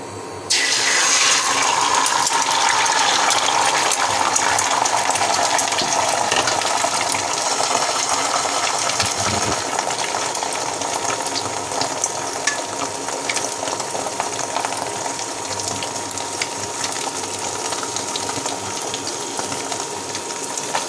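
Food dropping into hot oil in a village kitchen, followed by a loud, steady sizzle and crackle that goes on without a break, with no talking over it.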